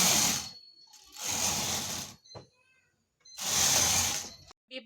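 A hand-operated knitting machine running plain stitches: three long rasping carriage passes with mechanical clatter, separated by short pauses with small clicks, close and fairly loud.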